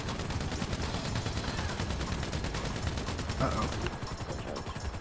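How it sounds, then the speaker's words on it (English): Gunfire aimed at the player in GTA V Online: dense, rapid bursts of shots rattle continuously, with a brief spoken exclamation over them. "Ow, I'm getting shot."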